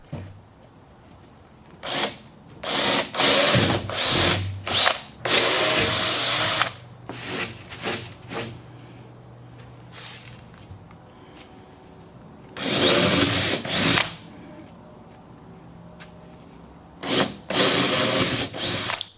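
A power drill whirs in repeated short bursts with pauses between them, loud and close, biting into a wooden board.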